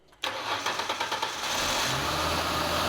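A Ford engine cranks briefly, then catches and starts, settling into a loud, steady running rumble that fills the rest of the clip with no speech.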